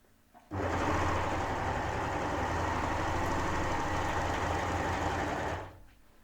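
An Amber Air S400 sewing machine stitches a gathering seam through fabric in one steady, fairly loud run of about five seconds, a smooth motor hum with rapid needle chatter, starting and stopping cleanly.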